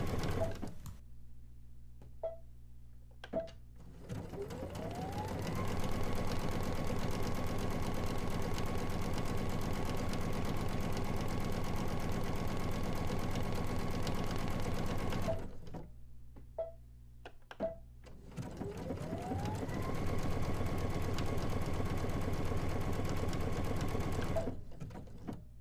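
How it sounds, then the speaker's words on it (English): Sewing machine running a straight stitch in reverse: two long, even runs of steady motor hum with a rising whine as it speeds up, separated by brief pauses with small clicks. "see how fast it's sewing in reverse"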